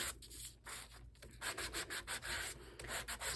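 Abrasive scuffing across the surface of a plastic gift card, in short back-and-forth strokes with brief pauses, quiet and close with no talking.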